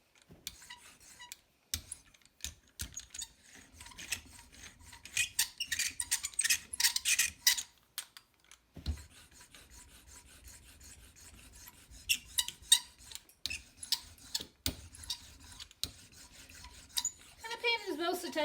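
Soft rasping and rubbing as a slab of clay is rolled out and flipped back and forth for a sunflower bowl, with bursts of scraping friction and brief pauses, close and fairly quiet.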